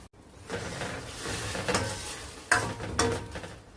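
Sago pearls being added to melted jaggery in a pan for jackfruit payasam, with steady stirring and scraping, a soft sizzle underneath, and a couple of sharper clinks of utensil against the pot.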